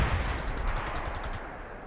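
Dense, heavy gunfire and battlefield rumble in the real-time strategy game World in Conflict, a continuous thudding barrage of rapid shots and low booms, loud and sustained with no clear pauses.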